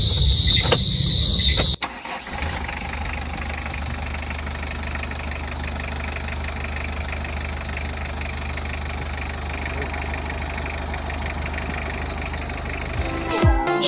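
Hyundai H100 engine cranking and catching after a timing belt replacement, then settling into a steady, fairly loud idle that runs on evenly before cutting off at the end.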